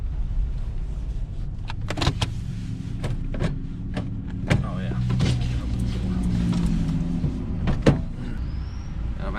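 An old, high-mileage $500 car with over 218,000 miles runs while being driven, a low steady engine rumble inside the cabin with scattered clicks and rattles; someone talks over it.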